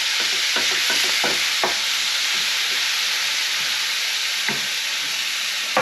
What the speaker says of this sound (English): So the tin of tomatoes goes in.